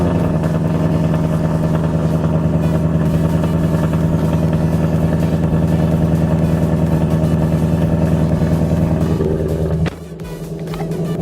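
A deep, loud Ford Mustang V8 engine idles steadily and close, its rumble throbbing evenly before a sudden drop near the end; its active exhaust is not working.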